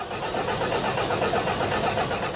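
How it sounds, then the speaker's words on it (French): Toyota car engine cranking without fuel and failing to start, a steady loud churning starter drone close up with no catch or rev, continuous throughout. "Voilà, le véhicule ne s'allume pas."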